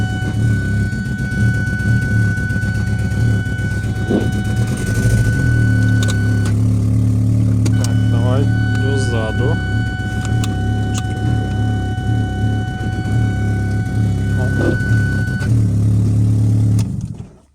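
A Ford Mondeo Mk3 with a 2.0 petrol engine and automatic gearbox pulls away, its engine humming steadily and close by, with a slight rise in tone. It runs on alone, with no voices, until it cuts off near the end.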